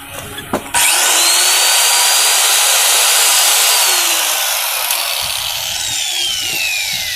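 A power tool is switched on in a tool shop and runs continuously with a loud, bright whine and steady buzzing, after a couple of brief knocks.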